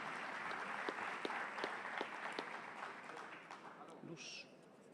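An audience applauds to welcome the director of Colombia's tax agency at a business event, steady clapping from a crowd that fades toward the end as a voice briefly begins.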